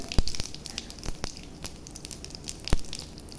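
Bay leaves and cumin seeds dropped into hot oil for a banana blossom curry, giving a faint crackling sizzle with scattered sharp pops and spits over a low steady hiss, alone without talk.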